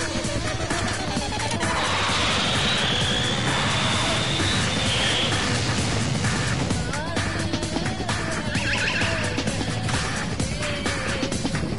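A helicopter in the Danganronpa video game gives off a loud, continuous roaring drone, broken by several crashing, smashing impacts, all sustained at steady volume for about twelve seconds.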